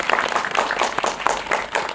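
An audience applauds at a film Q&A screening, a brief, moderately loud scattered clapping with no voices over it.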